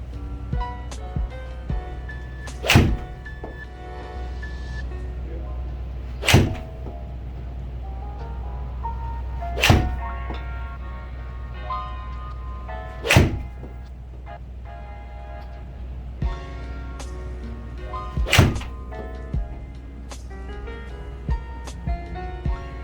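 Golf club with a Dynamic Gold S300 steel shaft striking balls, sharp isolated impacts about every three to four seconds over a steady low background hum, some fainter clicks between.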